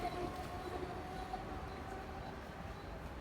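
A local train rumbles steadily into a station, a continuous low mechanical roar with faint squeal-like tones, loud and unbroken throughout, with no voices.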